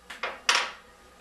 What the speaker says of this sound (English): I'm making a little hole in the center here with my fork